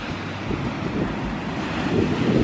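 Ocean waves and wind on a beach at sunset make a steady broadband rush with soft surf swells, and wind buffets the microphone. No voices are heard.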